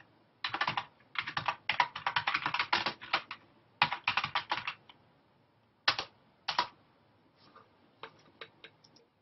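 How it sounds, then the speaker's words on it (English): Fast bursts of typing on a computer keyboard in a quiet room, with clicking keystrokes in runs separated by short pauses, then a few scattered taps near the end. "you could just start typing in this main editing window"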